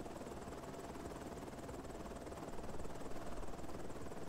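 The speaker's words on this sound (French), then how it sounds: "C'est tellement stylé d'avoir des hélicos dans un jeu roleplay" Helicopter in the roleplay video game Onset, a continuous rotor thrum and engine whine that stays fairly even, growing slightly louder and closer toward the end, with no talking over it.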